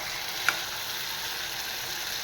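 Vegetables fry in a peanut oil tempering with a constant soft sizzle and hiss, one brief clink near the start, and no talking.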